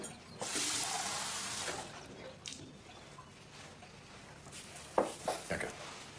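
Water running into a glass indoors in a domestic scene, a steady splashing pour for about two seconds, then quieter handling and a few short clinks and knocks near the end, with no talk.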